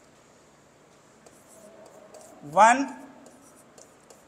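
Writing on a board during a maths lesson on area under a curve: soft scratching that builds to one short squeaky stroke, with a voice briefly speaking.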